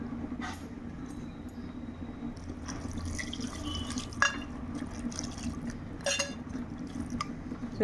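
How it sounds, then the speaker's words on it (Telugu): Water is poured into a cooking pot holding salt, turmeric, chilli powder, onions and green chillies, giving quiet splashes and trickles with a few drips and clinks, close but faint, over low background noise. "ఇందులో కాస్త వాటర్ పోసుకుందాం."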